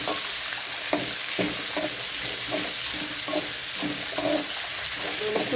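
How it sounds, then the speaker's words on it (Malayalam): Large onions fry and sizzle in a pan, with a steady bright hiss broken by repeated scraping stirs of a spoon at an even rhythm, close and fairly loud, with no talking. "ഇനി നമുക്ക് ഇതിലേക്ക് ഉള്ളി ഇടാം. സബോള കേട്ടോ, ഇത് വലിയ സബോളയാണ് ഇട്ട്."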